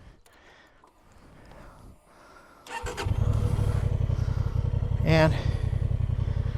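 A Honda Transalp motorcycle stuck in sand starts up and revs hard, a loud close engine roar with a rising surge near the end, preceded by quiet rustling and brief talk.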